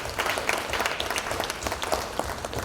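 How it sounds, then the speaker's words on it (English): Audience at the Ogbakor Ikwerre USA convention in Dallas clapping for people from Detroit, steady moderate applause from a crowd with no voices over it. "Please give them a round of applause."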